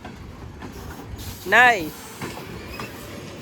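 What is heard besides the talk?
Norfolk Southern freight train gondola cars passing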